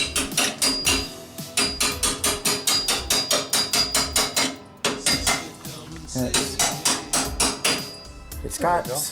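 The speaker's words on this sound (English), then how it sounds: "we need a mallet to drive it through" A mallet drives a pin through the bracket of a John Deere double grass bagger, ringing metallic blows struck in a fast, steady rhythm, loud and close, with a brief pause midway.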